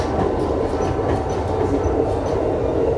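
Amtrak Lake Shore Limited passenger train running through a junction, a loud steady rumble with rhythmic wheel clatter over the rails, heard close from on board with no talking.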